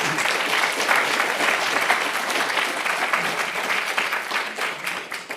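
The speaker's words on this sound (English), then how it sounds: "You're applauding a video" Audience at a broadcasting excellence awards ceremony applauding a recorded acceptance video: sustained, full-room clapping that holds steady throughout at a fairly loud, even level.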